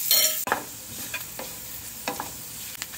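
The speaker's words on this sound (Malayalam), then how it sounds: "കരിഞ്ഞു പോകരുത്, നല്ല ബ്രൗൺ നിറമാണത് ഇളക്കി വറുക്കാം." Chopped coconut pieces frying in butter in a pan hiss with a steady sizzle, broken by several sharp scraping stirs of a spoon against the pan; close and fairly loud, no talking.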